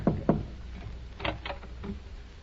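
Knocking on a door in an old radio drama, a couple of sharp close knocks followed by softer, more distant raps, over a steady background hiss.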